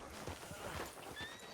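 A horse in Red Dead Redemption 2 whinnies amid a few soft hoof clops, with a light ambient bed under the short, close sound.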